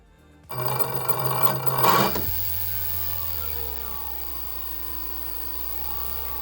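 A DIY Power Vision 2808 700kv brushless FPV motor starts abruptly with a loud whirring burst that rises briefly, then settles into a steady mechanical hum with a slowly shifting tone, heard alone.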